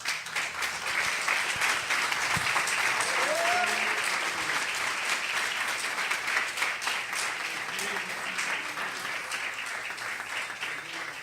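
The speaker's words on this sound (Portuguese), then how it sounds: "louvando ao Senhor Jesus com uma linda e calorosa salva de palmas" Sustained applause from a large congregation at a Sunday church service, a dense wash of clapping that keeps going steadily for the whole stretch without letting up.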